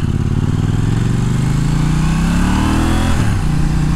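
KTM Duke 790 motorcycle engine while riding, loud and close, revving up through rising pitch and then dropping sharply on a gear change before pulling again, with a continuous throbbing exhaust note and wind noise.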